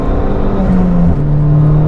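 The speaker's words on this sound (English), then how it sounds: "I really also like the intake noises that the car is making." Car engine pulling hard on a lap of the Nürburgring, with a loud, steady intake and engine drone and a rising tone that holds close and continuous throughout, no talking.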